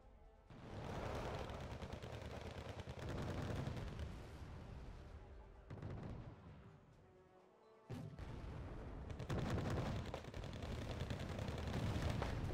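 Heavy artillery pounds away in the Wargame: Red Dragon strategy game, a dense, loud barrage of rumbling blasts and rapid gunfire that rolls on almost continuously, cutting out briefly twice before crashing back in.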